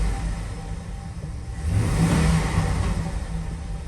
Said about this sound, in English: Just giving it some gas and just revving on it a little bit.